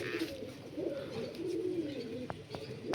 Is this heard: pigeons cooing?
yes